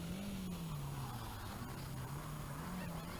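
A little Volkswagen Polo rally car on a 1984 Galway Rally stage, its engine giving a steady droning note that wavers slightly in pitch as it drives past, heard over broad background noise.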